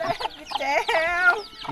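Chickens clucking in a village, a close, loud run of throaty, warbling clucks and squawks rising and falling in quick bursts for under two seconds.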